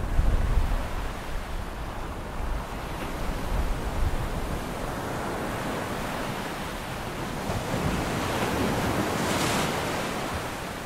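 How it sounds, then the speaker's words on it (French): Powerful ocean waves break continuously on a South African coastline at De Hoop, a loud, close, roaring surf with wind noise, unbroken and with no voices. "Les vagues sont puissantes"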